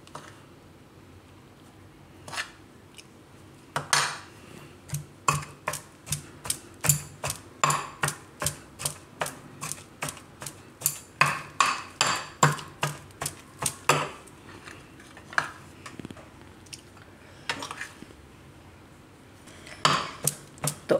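Red chili powder is worked into crushed, salted garlic in a mortar or bowl for garlic chutney, making a rapid run of sharp, close tapping and clicking strikes in uneven bursts, with no talk.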